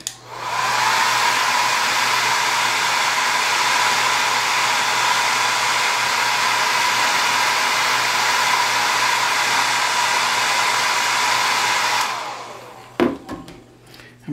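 A hair dryer blows steadily and loudly for about twelve seconds, drying paint on a carved wooden penguin caricature, then switches off, leaving a few faint handling clicks.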